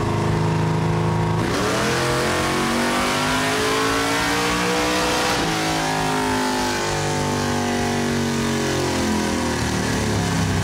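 A 1977 Ford Granada sleeper build with a 537-horsepower engine revs hard at full throttle, a loud sustained roar that climbs sharply in pitch, drops back, then climbs again, close up with no talking.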